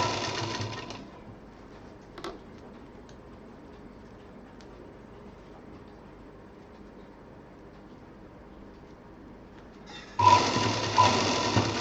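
Sewing machine stitching along a fabric bag handle, a short burst at the start and another running burst at the end, close and fairly loud, with a quiet pause between.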